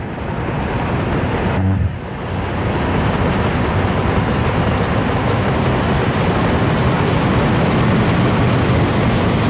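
Steady, loud rumble of a moving electric train in a video game set in a Soviet republic, continuous rolling noise with a brief dip near the start, no voices.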